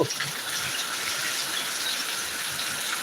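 Heavy rain pours in Thiruvananthapuram as a steady, dense hiss that holds at an even level throughout, with no voices.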